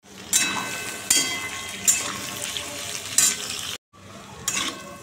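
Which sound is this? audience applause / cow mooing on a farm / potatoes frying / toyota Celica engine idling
potatoes frying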